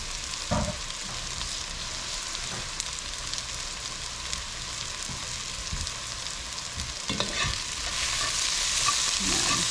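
Garlic frying in a hot skillet alongside onions and peppers: a continuous close crackling sizzle with occasional spoon stirs, swelling louder toward the end, no voices.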